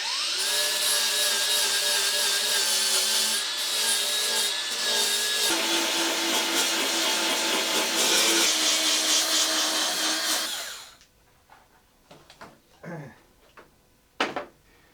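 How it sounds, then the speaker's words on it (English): A power sander grinds down a welded metal patch panel on a car body, a loud, continuous whirring whine for about ten seconds that winds down, followed by a few scattered clicks and knocks. "I'm going to sand."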